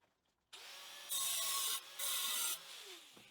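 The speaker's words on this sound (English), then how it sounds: "get some help from my friend the grinder and the cut-off wheel" An angle grinder with a cut-off wheel cuts thick metal plate. The high abrasive whine starts abruptly, swells louder twice as the disc bites, then eases off. It is close, steady and continuous, with no talking.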